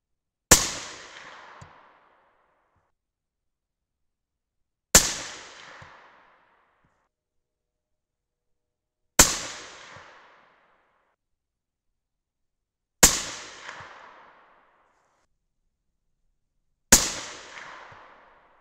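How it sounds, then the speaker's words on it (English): Five 6.5 Creedmoor rifle shots with Winchester WLR primers ring out, each a sharp, loud crack with a short decaying echo, spaced evenly about four seconds apart with silence between. "five more shots to go. Our last primer is the Winchester WLR."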